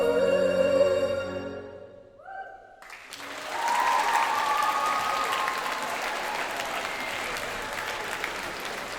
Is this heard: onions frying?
no